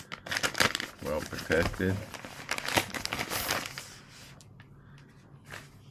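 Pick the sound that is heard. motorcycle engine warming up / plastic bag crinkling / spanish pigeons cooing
plastic bag crinkling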